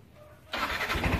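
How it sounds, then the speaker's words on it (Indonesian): A Yamaha NMAX scooter engine, started with a manual key, kicks into life abruptly after a quiet moment, then runs with a steady, rough mid-pitched idle close by. "Motor dia hidup ya."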